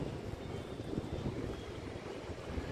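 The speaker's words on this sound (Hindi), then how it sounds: "हवा चल रही है बहुत तेज़" Strong outdoor wind blows in a constant low rumble of buffeting against the microphone, steady and moderately loud with no talking.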